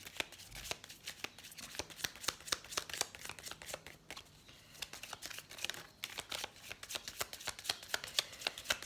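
Oracle cards for a love-themed reading being shuffled by hand, a steady run of close, crisp riffling and flicking that continues throughout with brief pauses.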